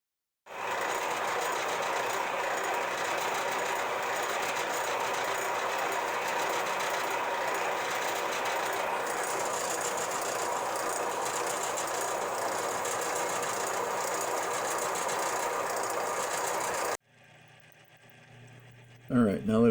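Bandsaw cutting the back off a metal lathe tool holder, a steady loud whirring drone running for about sixteen seconds before cutting off abruptly into quiet handling noise.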